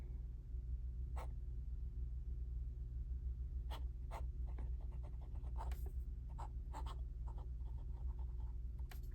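A fountain pen writes on scratchy paper: faint, scattered scratches and short strokes come at irregular moments over a steady low background hum, with no talk.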